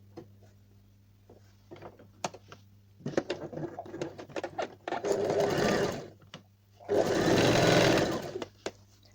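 A sewing machine stitches a neck facing in two bursts of loud continuous whirring, with scattered taps, clicks and fabric handling before and between runs, heard close with a low steady hum underneath.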